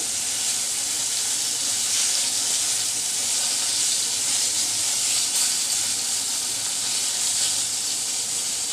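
Whole loitta fish fry in hot oil in a pan with a steady, dense sizzle and crackle that holds at an even loudness throughout, with no talking.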